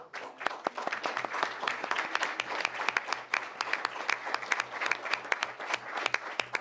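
Sustained audience applause at a school board meeting, as parents are thanked for attending: dense, steady clapping from a crowd of many hands, fairly close and even, with no talk over it.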